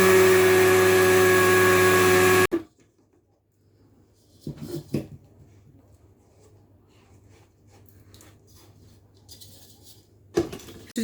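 Chebakia seeds whirring in an electric grinder, a loud steady motor drone for a little over two seconds that then cuts out abruptly, leaving faint knocks and a quiet low hum before a brief louder clatter at the end.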